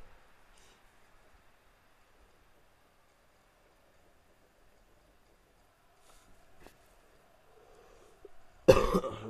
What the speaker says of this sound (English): you might hear me cough a couple of times as well